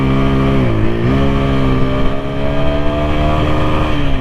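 A 2025 TVS Apache RTR 160 4V motorcycle revs hard in second gear, its engine note loud and close, rising and dipping briefly before holding high against the rev limiter.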